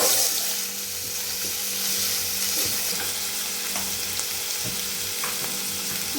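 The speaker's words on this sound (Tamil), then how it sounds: "பொடியாக நறுக்கி வச்ச வெங்காயத்தை போட்டுக்கலாம்." Finely chopped onions sizzle in hot oil in a pan while egg kothu idly is being cooked, a steady close hiss and crackle with a few small clinks and stirring sounds.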